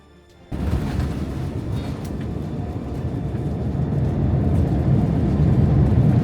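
A Turkish Airlines Airbus A350 taxiing after landing, heard from inside the cabin as a steady, loud engine and rolling rumble that starts abruptly and slowly builds.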